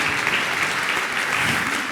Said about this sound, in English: A quick round of applause, please.